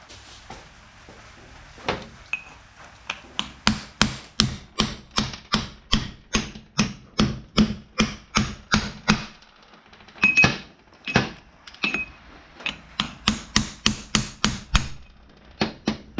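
Repeated sharp metallic hammer taps knocking a gear off a Powerglide transmission, close and loud, in quick uneven bursts with a few short pauses between volleys.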